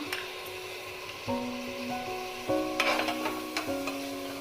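Crushed garlic, ginger and green chili go into onions frying for cooker biryani, with a steady sizzle, several scraping stirs and utensil knocks, and a constant faint tonal hum underneath.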